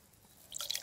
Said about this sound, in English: Right, let's tip them out.